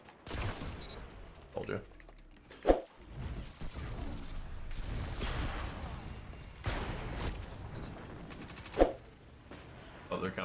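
Sniper rifle shots in a Destiny 2 Crucible match, two sharp cracks standing out amid busy game effects and whooshes, with players talking over the action.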